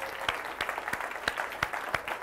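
A keynote audience at the IEEE-USA Future Leaders Forum gives soft, diffuse applause, with a few sharp, nearby claps standing out in a steady rhythm.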